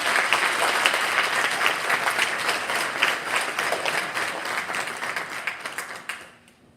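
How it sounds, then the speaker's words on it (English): An audience at a senior awards ceremony gives students a round of applause, a dense, steady wash of many hands clapping that fades away at the close. "Let's give them a round of applause."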